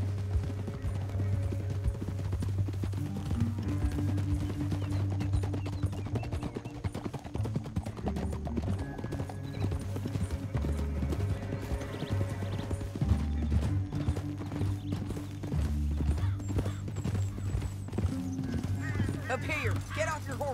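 Horse hooves clip-clop and gallop in the Red Dead Redemption 2 video game, a steady rhythmic pounding under a musical score with occasional whinnies and people talking.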